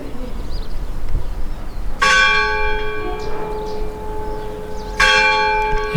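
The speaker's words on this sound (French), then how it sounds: "Et la cloche de tout à l'heure," A church bell in the tower of a medieval fortified village strikes twice, about three seconds apart, each loud clang ringing out and lingering over faint outdoor background noise.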